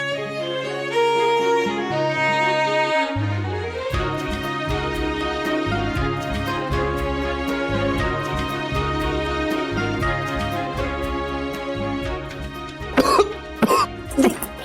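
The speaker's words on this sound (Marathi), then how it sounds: "थोडस तर खोकला येईलच नाही" A person cleaning a house coughs in a few sharp bursts near the end, heard over steady music that plays throughout.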